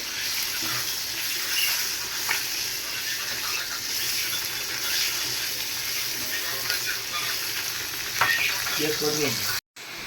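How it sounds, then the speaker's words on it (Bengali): Hilsa fish frying in oil alongside dried red chilies, a loud continuous sizzle with bubbling crackle and occasional spoon clatter, cutting out briefly just before the end. "মাছের সাথে আমি কিছু শুকনো মরিচ ভাজতেছি ভর্তা করার জন্য"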